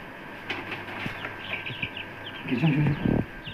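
Young chicks being packed for posting chirp and peep close by, with soft rustling and brief flapping or scuffling near the end, as a person talks over them.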